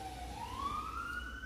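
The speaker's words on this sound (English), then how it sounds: "You can hear the sirens in the background." A distant fire truck siren wails with a slowly rising tone, faint and steady against low background noise.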